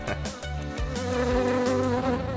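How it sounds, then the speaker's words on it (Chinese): A cartoon bee buzzes steadily and close for a couple of seconds, a continuous tonal drone that wavers slightly in pitch. "只有蜜蜂"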